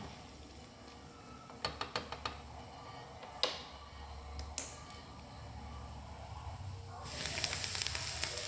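Curry leaves drop into hot oil for tempering a cucumber batter: a quiet stretch with a few sharp ticks and pops, then a sudden loud burst of steady sizzling in the final seconds.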